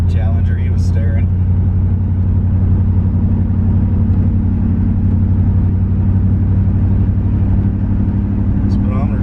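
A 1970 Corvette with a 454 big-block V8 and M22 four-speed cruising, a deep steady engine drone with a strong low rumble throughout, with someone talking over it.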